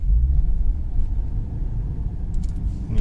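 Lexus IS F with its 2UR-GSE V8 driving and shifting through its eight gears, heard from inside as a steady, loud low engine rumble throughout with a faint jingle near the end.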